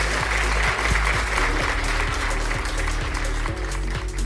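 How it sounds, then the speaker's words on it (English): An audience claps steadily throughout, a dense sustained round of applause with a low rhythmic beat underneath and a faint voice in the background. "We rounding the bend to Christmas, so clap it up."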